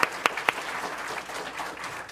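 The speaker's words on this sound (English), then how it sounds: "let's clap for them" Applause for two instructors at a powerline technician graduation ceremony, opening with three sharp claps and swelling into steady, moderately loud clapping from a crowd.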